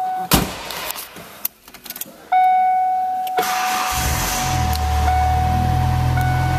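A 1993 Ford Mustang LX with a small exhaust leak: a door chime dings, then the engine cranks and catches, settling into a low, steady idle close by.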